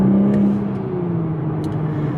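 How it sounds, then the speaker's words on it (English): A 2021 Toyota GR Supra's engine and exhaust under throttle, a steady droning tone that swells and then eases as the car pulls away, loud and close with no voices. "So all the crackles, the pop, and what we call the fart sometime when you step on the gas and you let it go"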